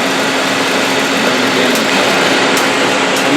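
Sub spindle of a Citizen M20V 10-axis CNC Swiss lathe spinning at 1000 RPM, heard from close range as a steady, loud, even whine and whir with no talk over it.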